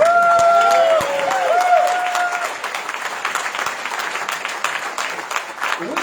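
Audience applause at a Republican gubernatorial candidate debate, a dense continuous clapping from a room full of people, loud at first and gradually thinning, with a whistle or tone at the start.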